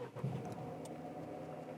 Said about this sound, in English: now I'm going to start the car up because for this bit we kind of want to see that